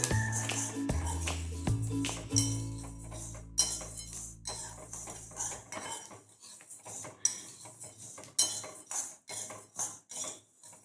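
Coriander seeds are dry roasted in a pan, with loud metallic clinks and ringing scrapes of a spoon against the pan, followed by a run of lighter, irregular rattles and taps.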